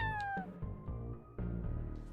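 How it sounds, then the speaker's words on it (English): A cat meows in a video game, a few drawn-out, rising cries near and loud, with bursts of game noise between them. "Is it a cat?"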